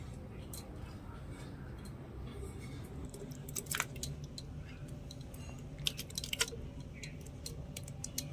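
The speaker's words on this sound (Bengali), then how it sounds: "এবারে মিক্সির জারের মধ্যে আমি আমের টুকরোগুলো ভরে নেব" Mango pieces drop into a kitchen mixer jar with a few light taps and soft knocks, sparse and close, over a quiet room hum.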